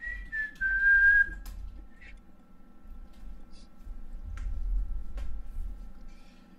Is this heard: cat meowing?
no